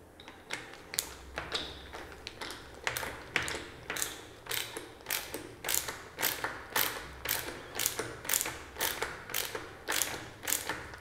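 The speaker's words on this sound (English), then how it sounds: "And then you can go ahead and use your nut driver again." Nut driver turning a wheel nut onto the axle of a MetroboardX electric skateboard, a rapid series of regular ratcheting clicks heard close up, each click evenly spaced, with no talking.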